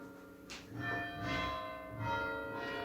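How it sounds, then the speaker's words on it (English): A church bell tolls in a slow, steady rhythm with rich ringing overtones, heard from some distance and fairly faint against a quiet background during a Holocaust memorial gathering. "the church bell is ringing"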